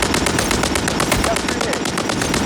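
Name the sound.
gunfire in video game Call of Duty MW3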